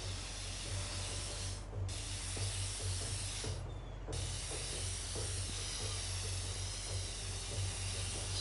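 Continuous spray-paint hissing in inFAMOUS Second Son, faint and steady, with two short gaps over a low background hum.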